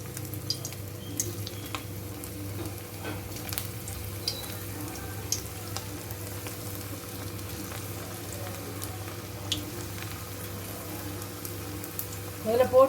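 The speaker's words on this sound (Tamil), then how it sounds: "இப்போ கொஞ்சம் உருட்டி வச்சதெல்லாம் இது உள்ள ஒன்று ஒன்றா போடலாம்" Hot oil sizzles steadily as balls of pakoda dough are dropped in one by one, a low continuous frying crackle with a quiet hum and a few bubbling bursts near the end.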